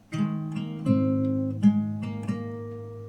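Fingerstyle guitar playing a song melody: plucked notes ring over sustained bass strings, with a handful of distinct picked attacks in a steady, unhurried rhythm, close and clear with no voices.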